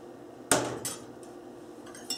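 Flour is stirred into melted butter in a pan for a béchamel sauce: a loud metallic clank of a utensil on the pan, then a few softer scrapes and taps, close and without talk.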